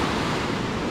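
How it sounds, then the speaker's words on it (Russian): Storm waves on the sea at Anapa surge and crash in a steady, loud roar of surf, with wind noise mixed in and no voices. "Вот это настоящий шторм уже"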